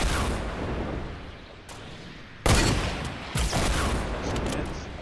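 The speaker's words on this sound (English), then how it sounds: "They're shooting rockets." Rockets are fired in a shooter video game, with loud booming blasts and rumbling explosions one after another amid sustained battle noise.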